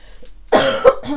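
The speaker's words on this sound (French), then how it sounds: "Pardon, je tousse encore beaucoup" A single sharp, loud cough bursts out at close range, followed by a brief throaty catch, with no talking.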